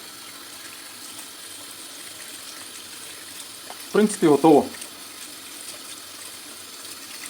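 Dried peas are rinsed under a running kitchen tap while being prepared as fishing bait porridge; a steady, even hiss of flowing water continues throughout, with a brief spoken remark partway through.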